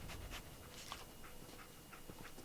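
Dogmeat, the companion dog in Fallout 4, pants softly and steadily through a short stretch, faint and somewhat muffled, with no speech.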